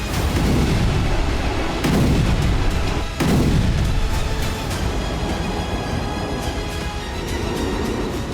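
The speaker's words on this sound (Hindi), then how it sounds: "रूस के एनर्जी ठिकानों पर एक के बाद एक कई धमाके हुए" Explosions at Russian energy facilities after Ukrainian drone attacks, a dense roar of booming blasts one after another, loud and continuous with repeated heavy thuds.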